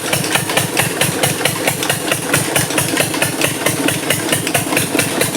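A tubewell engine some 40 to 45 years old runs in a mango orchard, its loud, steady, rapid thumping pulses continuing without a break and with no voices.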